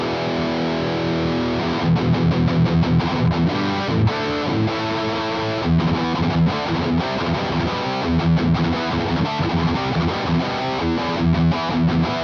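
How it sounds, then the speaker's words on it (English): Heavily distorted electric guitar through a Boss Metal Zone pedal into a clean Roland Jazz Chorus amp plays steady chords and riffs at a loud level, thick and buzzing throughout, with no voices. "You got a very clean amp receiving some full-on distortion."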